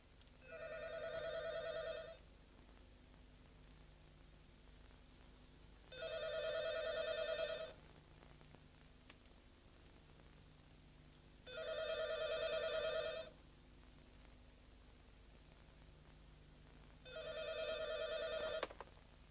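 Telephone ringing after a number is dialed, four evenly spaced ring bursts with quiet gaps between them, faint and steady in the background.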